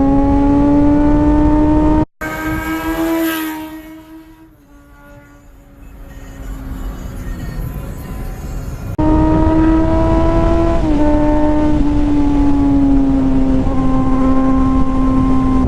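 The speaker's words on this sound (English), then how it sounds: "Let's do a pass by on Nathan here." A vehicle passing by close and loud, its steady droning engine tone holding for several seconds before the pitch dips slightly as it goes past, with a brief quieter stretch in the middle.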